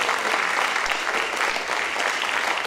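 Dense, steady audience applause at an awards ceremony, a continuous loud wash of many hands clapping throughout the short stretch.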